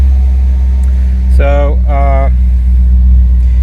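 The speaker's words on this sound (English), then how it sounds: "The car starts and everybody is happy." An Audi B7 RS4 engine runs with a steady low rumble after a start. A single short word is spoken briefly over it.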